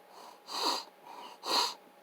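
Two sharp, wet sniffs through a congested nose, spaced about a second apart, with softer breathing in between; close and fairly quiet.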